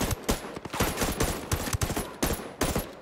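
Rapid gunfire from the video game Ghost Recon: Breakpoint, dense loud bursts of automatic shots in quick succession, continuous and close with no voices over it.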